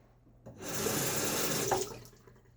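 Tap water running loudly and harshly into a sink during a wet shave, a steady forceful gush rising in over half a second and cutting off near the end, with no talking.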